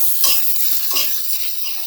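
Chopped garlic and onion fry in oil in a pan, giving a steady, close sizzling hiss with soft stirring scrapes throughout.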